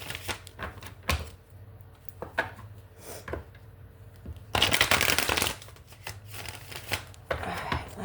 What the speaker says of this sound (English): 3 shuffles into it here.